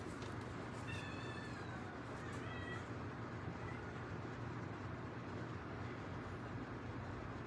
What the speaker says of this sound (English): Those are kittens in the background.